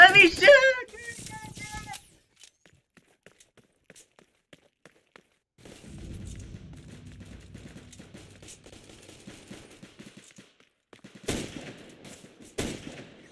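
Video game gunfire: a loud burst of shots at the start, then sparse faint clicks and taps, a rumbling stretch of distant firing in the middle and two sharp loud bursts near the end, with a voice heard in places.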